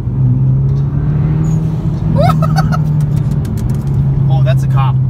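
Mitsubishi Lancer Evolution X engine and exhaust drone steadily from inside the car under way, with a low constant hum and brief rising squeaks and whistles over it, while someone talks.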